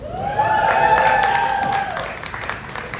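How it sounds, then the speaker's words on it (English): A stand-up comedy crowd in Washington DC breaks into applause with cheering and whoops, a dense burst of clapping and voices that swells and then slowly fades. "Clap it up for Asian men"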